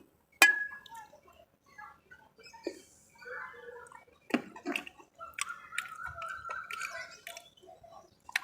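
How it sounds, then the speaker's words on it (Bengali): A shirt is washed by hand with splashes, drips and clinks of water and a container, irregular and close, with quiet gaps between bursts. "তাড়াতাড়ি করে জামাটা ধুলাম"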